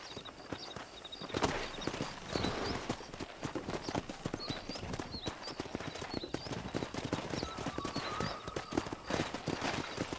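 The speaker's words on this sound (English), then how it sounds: "there's a pack of wild horses nearby" A pack of wild horses in the video game Red Dead Redemption gallops past with dense, rapid hoof clatter that stays loud and steady for about ten seconds, and a faint whinny rises partway through.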